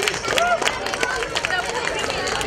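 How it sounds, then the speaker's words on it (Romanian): Brief applause from a live audience at an event, a dense patter of many hands clapping with people talking over it. "Aplauze atunci pentru vânătorul unde e meteoriți"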